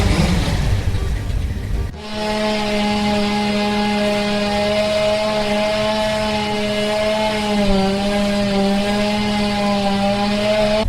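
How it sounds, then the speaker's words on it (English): A loud rush of noise gives way to a chainsaw running at a steady high idle, its buzzing drone holding close and constant. "Ralph, get the chainsaw."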